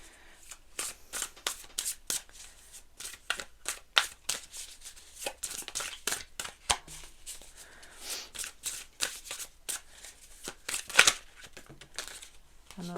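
Tarot cards are shuffled over and over in quick riffling bursts, crisp papery flutters close to the microphone with short pauses between.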